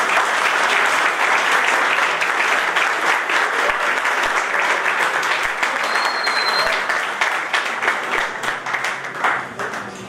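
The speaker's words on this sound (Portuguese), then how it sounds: "Uma salva de palmas" A lecture audience gives a warm welcoming round of applause, a loud, sustained mass of clapping that thins slightly toward the end.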